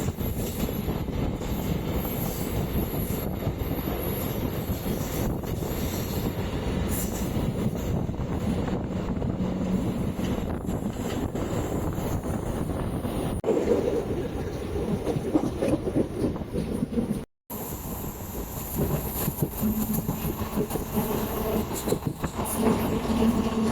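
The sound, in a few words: Ernakulam MEMU passenger train running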